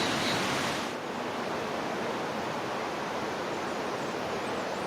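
River water flows steadily right beside a campsite at a rock climbing area in the Ecuadorian hills, a constant broadband rush that stays close and even throughout, with no voices heard.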